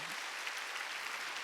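A church congregation claps steadily during a Wednesday worship service, dense even applause from many hands filling the space without a break.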